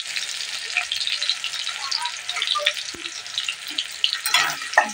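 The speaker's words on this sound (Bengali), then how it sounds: "এখানে তেল গরম হয়ে গেছে, দিয়ে দিয়েছি সাদা জিরে ফোড়নে দিয়েছি। এবার এই যে পেঁয়াজ দিয়ে দেবো" Onion slices hit hot oil already seasoned with cumin seeds, giving a steady, fairly loud crackling sizzle that swells near the end, with a few soft clinks of a utensil against the pan.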